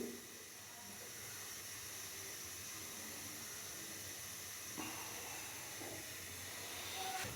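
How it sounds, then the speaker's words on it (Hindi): Half a cup of ghee melting in a kadhai gives a steady, soft hiss that stays even throughout, with no talk over it. "घी को अच्छे से मेल्ट करेंगे।"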